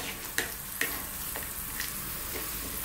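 Bok choy and mushrooms with oyster sauce are stirred in a hot pan, giving a steady sizzle broken by a few sharp utensil knocks and scrapes up close.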